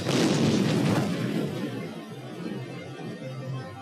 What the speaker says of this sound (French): une violente explosion se produit